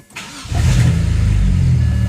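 A car engine cranks briefly and catches, then settles into a steady, loud idle close by, with no talk over it.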